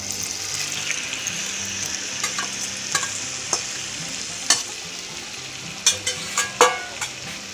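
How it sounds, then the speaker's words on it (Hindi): Beef liver frying in butter in a pan, a steady bright sizzle throughout with repeated stirring scrapes and clicks of the utensil, close and fairly loud, no voices. "कलेजी को बटर में हम फ्राई करेंगे अच्छी तरह।"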